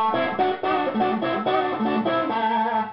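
A clean Fender electric guitar on the neck pickup plays a short, warm melodic phrase with a round, mellow tone, close and alone without any voices.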